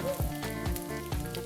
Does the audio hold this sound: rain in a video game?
no